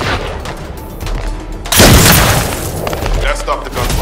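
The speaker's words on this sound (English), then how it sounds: "That stopped the gunfire." Gunfire and explosions in the shooter game The First Descendant, with a heavy boom about midway that leads into a loud sustained burst of rattling fire and blasts, the whole passage dense and close.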